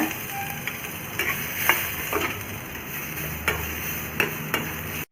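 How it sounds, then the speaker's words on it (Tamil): Ginger sautéing in a little oil in a pan, a soft continuous sizzle broken by several sharp clicks and taps of a utensil against the pan. "கொஞ்சோண்டு ஆயில் ஆட் பண்ணிவிட்டு இஞ்சியையும் அதே மாதிரி நீங்கள் வதக்கிக்கோங்க"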